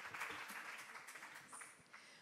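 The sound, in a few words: audience applause after presentation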